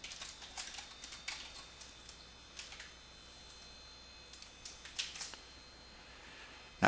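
Keys tapped on a computer keyboard in short bursts of soft, close clicks with brief pauses, quiet and without talk.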